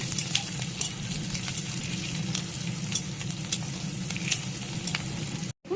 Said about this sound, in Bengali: পেঁয়াজটা গোল্ডেন ব্রাউন করে আগে ভেজে নেব।